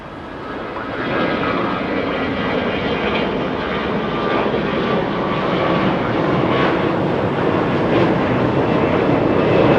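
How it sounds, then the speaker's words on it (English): An Air Canada Airbus A321 jet airliner at Los Angeles International Airport gives a steady, loud engine roar that swells and holds for several seconds, with broadband rumble and a faint tonal whine. "It's a Canadian A321 flying to Vancouver. Air Canada 561 getting a move on."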